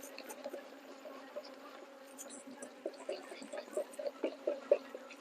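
Honey bees drone and buzz in a steady hum while a sample of them is shaken, with irregular louder bursts and rustles rising toward the end.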